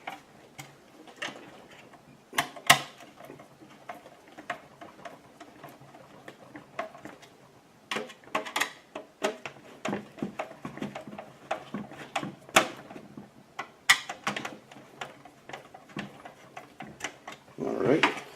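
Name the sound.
tightening down screws while building a PC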